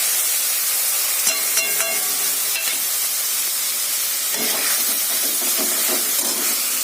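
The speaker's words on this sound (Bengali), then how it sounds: "এইবার মশলাটা দিয়ে দেবো।" Spices hit hot oil in a pan with a sustained broadband sizzle and hiss, joined by a few metallic clinks and scrapes of stirring, steady and close throughout.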